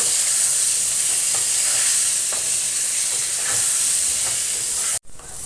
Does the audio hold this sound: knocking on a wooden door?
no